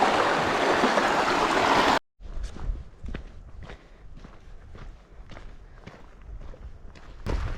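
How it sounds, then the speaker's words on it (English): Footsteps splash and crunch through a shallow mountain stream during a hike on Colorado's Capitol Peak, a series of close, regular steps over the running water after a sudden cut from louder noise. "River crossing number 2."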